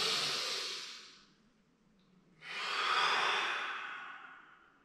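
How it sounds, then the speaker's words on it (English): Two long, deep breaths during Shaolin Jingang Palm practice, each a slow airy rush of air separated by a short quiet pause, close and alone with no talk. "complete every single inhale and exhale"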